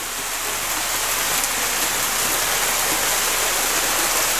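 Steady heavy rain hisses on surfaces outdoors, a dense, even wash of sound that is loud and continuous throughout, with no speech.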